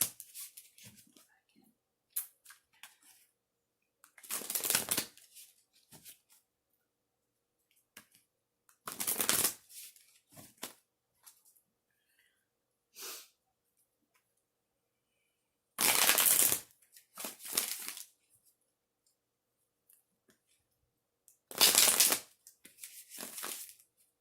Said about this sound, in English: I'm gonna shuffle these a little bit though first, just to give it a quick shuffle beforehand